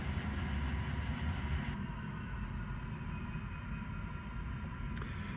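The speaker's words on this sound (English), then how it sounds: "This is our industrial park train" A Metra industrial park train runs on Union Pacific's Geneva Sub rails, giving off a steady loud rumble and rolling roar with a faint high squeal near the end.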